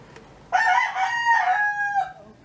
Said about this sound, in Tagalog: Ayan ang manok Besh na magsigig tingog-tingog sa video.